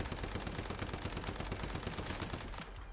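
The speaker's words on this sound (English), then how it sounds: "Right, if I'm blasting now the magazine through." Rapid, continuous automatic gunfire emptying a full magazine in the survival shooter Once Human, dense evenly spaced shots rattling loud and close for about three seconds before tapering off.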